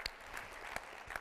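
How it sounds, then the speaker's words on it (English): A graduation-ceremony audience practices applause, producing a short, faint scatter of hand claps with a few sharper individual claps. "So can you practice the clap so I know you got that down?"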